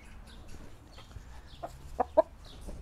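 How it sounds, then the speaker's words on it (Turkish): A large Brahma rooster clucks close by, giving a couple of short, soft clucks near the end over a quiet coop background. "Dev Brahma'nın horozu."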